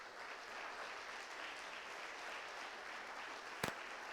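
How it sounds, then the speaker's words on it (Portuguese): Steady audience applause fills a church revival conference hall, a dense even wash of many hands clapping at moderate distance, with one brief sharp knock near the end. "Quem crê aqui, aplauda ao Rei Jesus."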